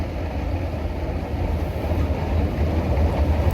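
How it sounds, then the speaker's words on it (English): A loud escalator runs with a steady mechanical rumble and rattling, clattering undertone, droning nearby without pause. "I don't know why this escalator is so loud."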